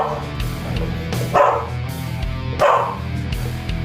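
A dog barks twice in a kitchen where deep dish pizza dough is being mixed in a bowl, two loud yips spaced about a second apart over steady low background noise.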